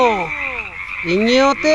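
A frog croaks loudly and close in two stretched, wavering calls, the second rising and then cut off sharply.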